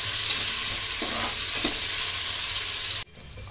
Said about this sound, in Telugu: బాగా దీన్ని కలపాలి. బాగా ఫ్రై చేసుకోవాలి.